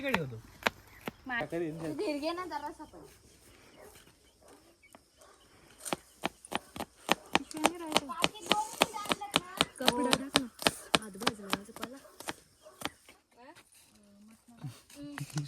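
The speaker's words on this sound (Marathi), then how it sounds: "इथं कांदा कापत आहे मम्मी" A knife chops onions on a board in a home kitchen, a rapid run of sharp, close taps that comes in bursts while family members chat nearby.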